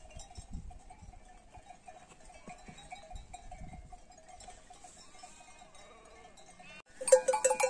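A flock of sheep grazes on an open pasture, with soft low rustling and munching at first, faint steady bell tones in the background, and a sudden louder clanging of bells near the end.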